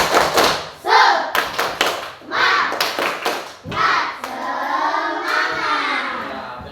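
An Indonesian classroom group claps a short rhythmic cheer pattern, bursts of sharp hand claps alternating with children's chanting voices, moderately loud and close.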